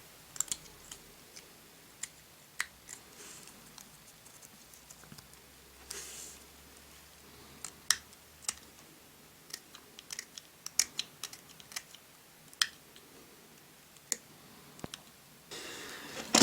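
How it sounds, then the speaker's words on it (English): A blade snips and clicks at old melted glue on a vintage Star Wars Biker Scout toy, with quiet, irregular small cuts scattered close up over a near-silent background. "just a little bit of trimming away just to sort of smooth up the edges"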